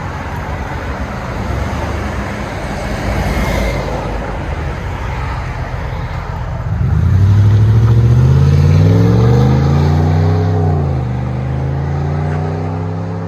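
Ram 1500 pickup with a 5.7L HEMI V8 and Magnaflow factory resonators idles with a low exhaust rumble, then revs up in a rising, close, loud roar before settling back down.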